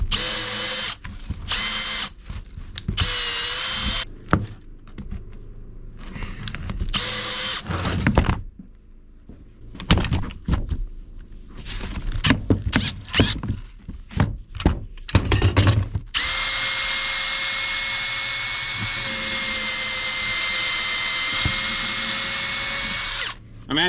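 A power drill whirs in repeated short bursts with gaps between them, then runs loud and steady for a long continuous stretch, close by and alone.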